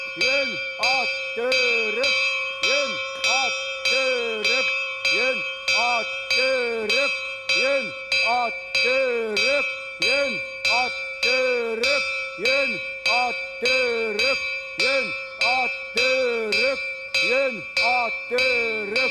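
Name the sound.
bell ringing in a film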